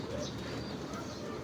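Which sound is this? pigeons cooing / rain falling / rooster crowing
pigeons cooing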